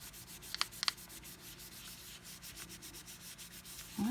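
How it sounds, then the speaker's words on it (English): A scrap polymer clay flower cane pendant is burnished by hand with soft, steady rubbing strokes, close and quiet, with a couple of small sharp clicks early and a brief bump at the end. "let's burnish this again"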